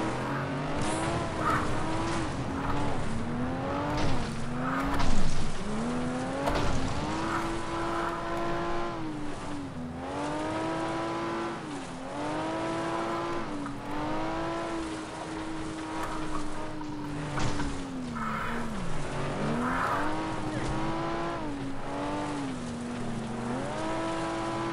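Race cars in the racing game FlatOut roar through continuous engine pitch sweeps as gears change, with repeated tire squeals and skids throughout, loud and steady without speech.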